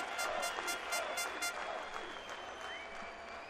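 A large crowd at the Dutch MotoGP at Assen applauds and cheers Valentino Rossi's win in a sustained distant roar, with rhythmic whistles or horn blasts and a motorcycle engine faintly rising underneath.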